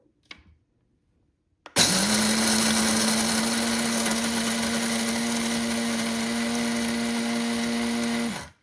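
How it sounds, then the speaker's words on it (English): A two-bowl electric coffee grinder grinding coarse coffee: after a brief click, a loud steady high-pitched motor whine starts abruptly, holds evenly for about six seconds, then cuts off. "For a quiet coffee grinder with different dial amounts for the type of coffee grounds you need"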